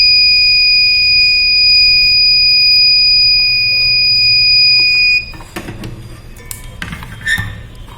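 A loud, steady electronic buzzer tone from an ESP32 health monitor sounds continuously for about five seconds when urine is detected, then cuts off, leaving faint clicks and handling noise.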